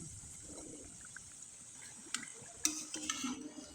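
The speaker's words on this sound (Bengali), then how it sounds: "আমি উল্টে পাল্টে এভাবে মুচমুচে করে ভেজে নিব।" Puffed-rice and jackfruit pitha crisping in a pan, a soft, steady frying hiss with a few clinks and scrapes of a utensil turning the cakes toward the end.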